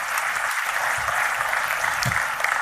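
An audience applauds at a biography launch event for politician Praful Patel, a steady dense wash of clapping filling the room at moderate loudness, with no voices over it.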